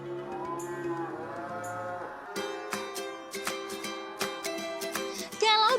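Cattle at a traditional livestock market in Minangkabau, West Sumatra, give long, drawn-out moos, one after another, against a busy background of market clatter and movement.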